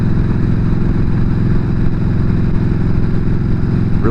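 A 2007 Yamaha V-Star 1300 motorcycle with a Cobra power flow intake and Cobra dragster long exhaust runs on the road, its loud, close, steady low pulsing throb holding unbroken throughout.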